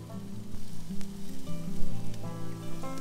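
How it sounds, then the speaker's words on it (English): Turkey meat sizzles on an oiled griddle, a steady close hiss and crackle of frying that runs unbroken for the whole stretch. "Let's go ahead and dump this turkey on here. Just a little bit more oil on here, keep it nice and wet."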